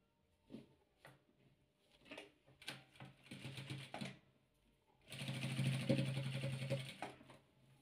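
A sewing machine stitches patchwork quilt fabric in short bursts, then runs in a longer, louder continuous stretch of rapid mechanical chatter up close.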